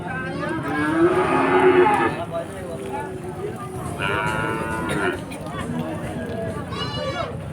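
Cattle low at the Chuknagar cattle market in two or three long, drawn-out moos, one louder and closer, over a busy background of crowd murmur and movement.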